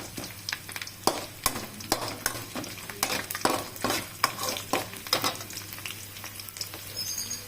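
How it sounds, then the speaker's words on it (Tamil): Garlic sautéing in oil in a frying pan for a chicken dish, a steady soft sizzle with scattered crackles and the scrape of stirring, close and moderately quiet, no talking. "நல்லா நறுக்கிட்டு நல்லா எண்ணெயில் வதக்கிட்டு"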